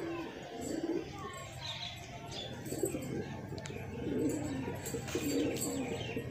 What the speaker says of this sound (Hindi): ये दोस्तों कबूतरी है,